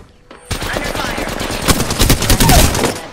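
Rapid automatic gunfire in Apex Legends rattles in loud bursts after a brief quiet start, growing denser and punchier toward the end.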